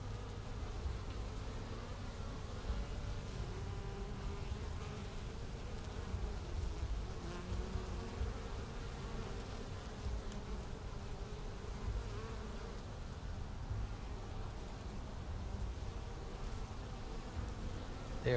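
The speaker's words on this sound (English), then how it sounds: "you can see right here all the bees coming in" Honey bees fly into a Flow Hive in early February, many returning loaded with pollen. Their dense, continuous buzzing swarms close by and stays steady throughout, with no voices.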